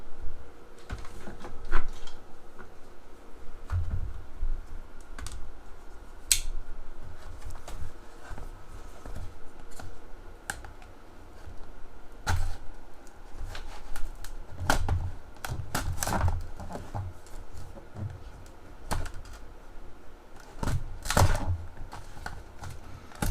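Cutting open the plastic casing of an Armstrong 10,000mAh power bank, uneven bursts of close clicking, cracking and scraping with pauses between efforts, no voices.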